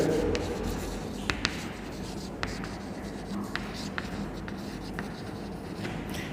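Pen writing by hand on paper during an economics lesson, a steady soft scratching with a few sharper taps, close and continuous throughout.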